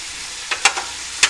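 Chopped capsicum and cabbage stirred in a hot frying pan, a soft continuous sizzle with a few quick scraping strokes of a spatula, close and brief.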